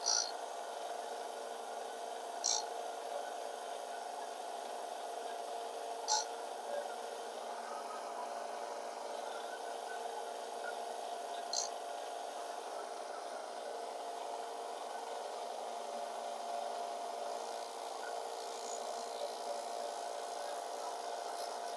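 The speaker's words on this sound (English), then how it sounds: "now I can take this on over to the disc sander and square this off nice and even on the end" A disc sander squares off the end of a glued wooden piece, making a faint, continuous abrasive hiss with a few light ticks scattered through it.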